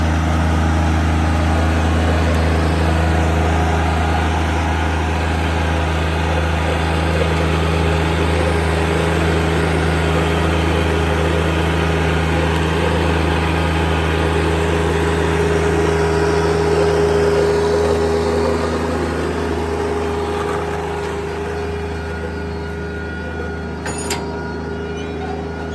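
A Rural King RK24 tractor's engine runs continuously while being driven, a steady low mechanical drone with a constant tone that eases slightly toward the end, with no speech.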